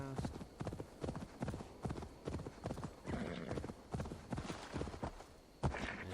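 Horse hooves clip-clopping steadily in the video game Assassin's Creed Valhalla, a rhythmic run of close hoof strikes over a busy game background, with a brief whinny-like sound near the end.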